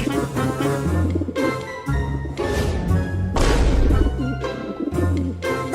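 Pigeon cooing and wings flapping indoors, a series of loud bursts of flutter and thumps with low cooing between them, close and busy.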